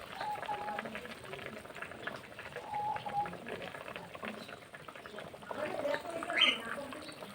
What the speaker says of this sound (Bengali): টকবক করছে